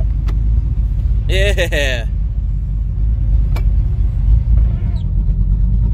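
Steady low rumble of a 1989 Ford Fox Body Mustang convertible engine running, heard close and continuous, with a brief squeaking sound and a short spoken word over it.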